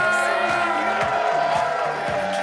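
Live comedy show audience cheering and clapping, a sustained crowd roar with scattered whoops over a pulsing music beat, steady and fairly loud throughout.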